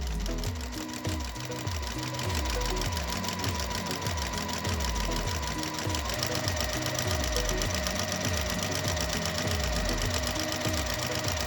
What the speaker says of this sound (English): we're going to go ahead and sew all the way down the line